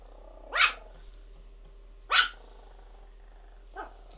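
A dog barks three separate times, close and fairly loud, with the third bark shorter and softer, over a quiet background without talk.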